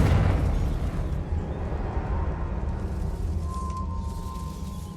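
A Confringo blasting spell in Hogwarts Legacy detonates with a loud explosive boom at the start, then a rumbling roar that decays over several seconds into a faint lingering tone.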